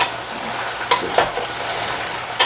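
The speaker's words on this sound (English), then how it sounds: "stir this around for a minute or so to distribute the coconut oil and the ginger" Ginger and coconut oil sizzle steadily in a pan while being stirred around, with occasional scraping clinks against the pan over a constant frying crackle.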